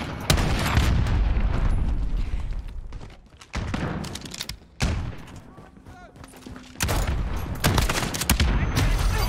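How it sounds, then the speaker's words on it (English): Heavy gunfire in the game Modern Warfare: loud, close bursts of rapid shots and booming impacts, separated by short lulls, with a player's voice heard briefly between volleys. "I'm taking fire!"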